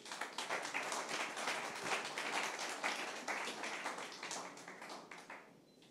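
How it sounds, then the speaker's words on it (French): An audience applauds award recipients at a ceremony, steady dense clapping from many hands that fades out toward the end. "On peut les applaudir."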